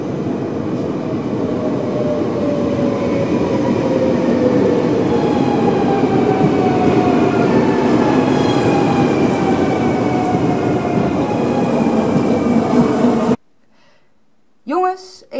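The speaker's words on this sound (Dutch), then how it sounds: "op naar de trein." A train rolls steadily past with a loud, continuous rumble and rising wheel tones for most of the stretch, then cuts off abruptly to quiet, where a short voice is heard.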